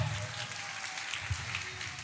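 Faint applause from a church congregation during a deliverance and healing prayer service, a soft steady patter of clapping heard from a distance for about two seconds.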